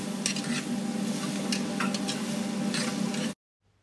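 Onions and green chilies fry in ghee in a restaurant kitchen, a close steady sizzle with scattered clinks and stirring scrapes, ending abruptly in silence.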